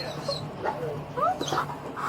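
Police dog whimpering during a house search, several high, thin whines and yelps rising and falling close by, with faint background noise.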